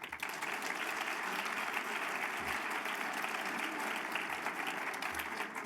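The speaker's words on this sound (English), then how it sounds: "we'd like to give you a round of applause" Steady, sustained applause from an audience at a teachers of the year announcement ceremony, dense clapping filling the whole stretch at even loudness with no talk over it.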